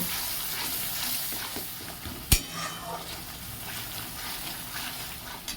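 Potatoes with coriander, cumin and turmeric powder being stirred in oil in a frying pan, a soft sizzle with scraping strokes and one sharp clack of the utensil against the pan midway.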